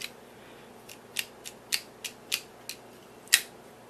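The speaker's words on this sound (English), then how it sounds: "to shut it you're just going to push that to the side and close it" A Winterial folding survival knife with a partially serrated blade is shut, giving a series of sharp, close metallic clicks spaced unevenly over a few seconds against a quiet background.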